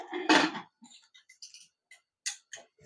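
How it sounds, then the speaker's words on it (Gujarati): Close metallic clinks and a short scrape as a pressure cooker lid is fitted and locked over khichdo, then a few small clicks in near silence. "તો હવે આપણે આને બંધ કરી દઈશું કુકર"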